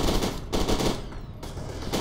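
Assault rifle bursts in the shooter game F.E.A.R. 2 rattle loud and close in two quick strings of rapid fire split by a short gap, with no talk.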